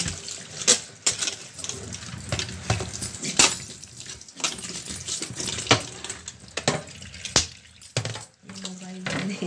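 Water runs from a tap into a sink while refrigerator parts are washed, amid clinks and scrapes, with occasional bumps and a voice talking in the background.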